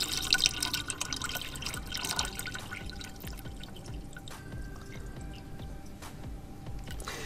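Water poured into the reservoir of a MondoVap 2400 steam cleaner, a soft continuous trickle with light splashing and drips, fairly faint and close, with no talk.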